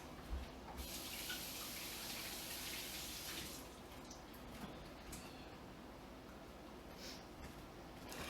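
An apple is washed under a running kitchen tap. A steady, close splashing rush of water starts loud, then settles into a softer trickle with small drips and handling sounds.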